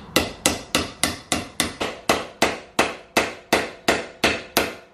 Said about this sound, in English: I'm just going to have to do it the ghetto way and use a hammer